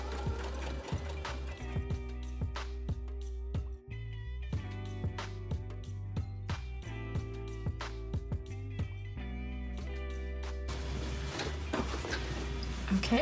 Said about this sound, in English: And now I'll give this a few stitches.